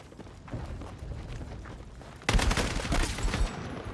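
A DMR rifle fired rapidly in a first-person shooter team deathmatch, quick semi-automatic shots in a fast rattling sequence, quieter at first then a loud close burst near the middle.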